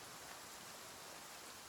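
Rain falls steadily at night in the survival game The Flame in the Flood, a faint even hiss of drops with no variation across the short stretch and no voices.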